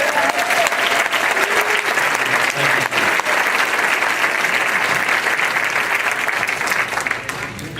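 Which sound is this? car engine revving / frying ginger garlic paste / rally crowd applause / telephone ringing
rally crowd applause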